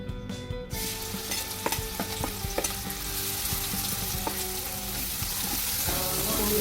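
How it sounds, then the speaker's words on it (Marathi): Onion frying in a pan with gram flour, peanut powder, ground garlic, red chilli and turmeric gives a steady close sizzle, with frequent light scrapes and clicks of stirring and no talk. "कांदा आपण चांगला फ्राय करून घेऊ"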